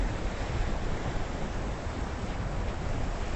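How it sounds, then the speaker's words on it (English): Atlantic Ocean waves crash against the rocks of a jetty near Ponce Inlet, a steady broadband wash of surf mixed with wind rumble, continuous and fairly faint with no voices. "We were looking at the waves crashing against the rocks."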